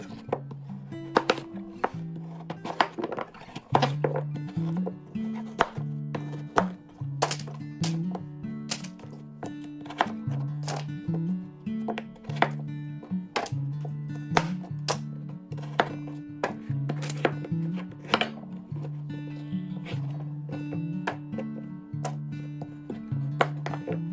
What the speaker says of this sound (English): And then I'll kind of rinse this out before I chop it.